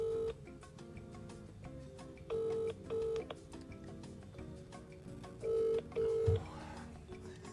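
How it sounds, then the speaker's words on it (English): A telephone call being dialed and left ringing unanswered, with a series of steady electronic tones repeating in a regular pattern over faint ticking background noise. "This is every one of my friends just not answering the phone calls."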